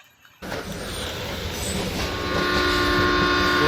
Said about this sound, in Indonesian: keretanya berjalan dengan lancar